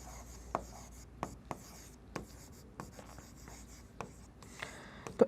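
Pen strokes scratch on paper as an equation is written by hand, with irregular short taps and scrapes spread through a quiet room.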